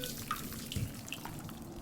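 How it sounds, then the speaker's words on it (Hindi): Water drips inside a dark cave tunnel, a few faint, separate plinks falling irregularly against a low, hollow background hush. "बीच रास्ते में वापस पानी टपकने की आवाज़ आई।"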